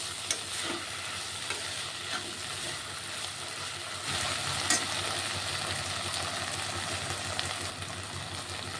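Two chopped tomatoes sizzle in a hot pan, giving a steady close frying hiss throughout. The hiss swells slightly midway as the pieces are stirred.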